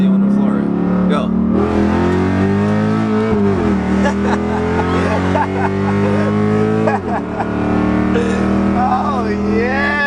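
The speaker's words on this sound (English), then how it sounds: "Rev it up a little bit. I'll tell you when to floor it." A 500hp SRT car revs and accelerates hard at full throttle on a highway, its loud, steady engine drone rising and shifting in pitch, with people talking over it inside the cabin.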